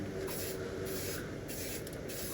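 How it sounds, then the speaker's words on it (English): Spray paint hisses steadily onto a charity shop picture frame, a continuous close airy spray with brief pauses between passes. "So just going to give it a spray evenly"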